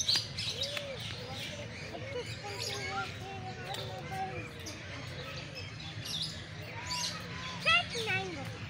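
Small birds in an aviary at a lakeside bird park chirp and tweet in scattered short calls over a low background hum, with someone talking throughout.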